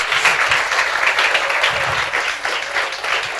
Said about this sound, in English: I think you can give her applause.